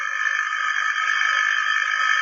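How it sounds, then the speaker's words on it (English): An old-fashioned telephone bell rings steadily and continuously in a 1938 radio drama, a bright, buzzing tone held close and loud with no talk over it. "Hannah, your phone's ringing."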